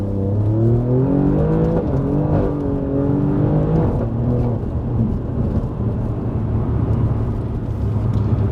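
An Alfa Romeo Giulia Quadrifoglio engine revs hard while accelerating, its loud, close note climbing through rising pitch sweeps with brief dips at gear changes, then settling into a steady drone.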